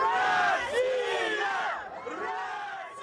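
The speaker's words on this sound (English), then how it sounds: "crowds of pro-Russian citizens poured into the streets to celebrate after a late-night announcement of the preliminary results" Pro-Russian citizens in the streets of Simferopol, Crimea, celebrate at night with loud, sustained crowd cheering and shouts, a dense roar of many voices close by.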